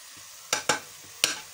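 Carrot halwa with milk powder is stirred in a pan, a few quick scraping strokes of a spoon over a soft, steady background hiss.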